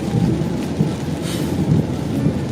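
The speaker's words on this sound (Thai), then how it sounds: "ฝนตกจ้า สวัสดีเมฆฝนและน้ำฝน" Thunder rumbles low and heavy over steady rain on an April afternoon in Lang Suan, Chumphon, Thailand, the rolling booms swelling and fading under a constant hiss of falling water.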